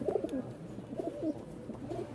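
A pair of Rajshahi Giribaz pigeons coos close by in soft, repeated throaty phrases, with no talking.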